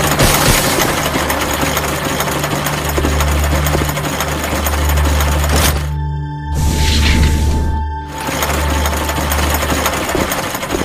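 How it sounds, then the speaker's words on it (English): A generator in the horror game Monster Park chugs and rattles loudly in a steady mechanical drone, briefly cutting out for a moment before running again. "Found all the gears. Let's put them onto the generator."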